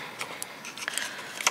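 Sharp scissors fussy-cut paper collage pieces from a botanical collage book, with quiet, close snips and rustles scattered irregularly across the moment.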